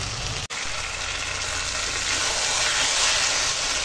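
Chicken pieces coated in spices sizzle steadily in a hot pan while being sautéed, a constant close frying hiss broken by one brief dropout near the start, with no talking.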